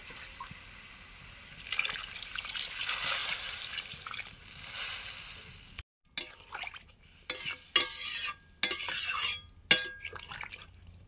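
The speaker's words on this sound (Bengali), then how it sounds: "তিল ধোয়া জল, পরিমাণ মতো জল দিয়ে দেবো।" Water poured into a pan of fish curry with pumpkin, a soft pouring and liquid splashing at first, then intermittent stirring and sloshing with brief gaps, close and fairly quiet.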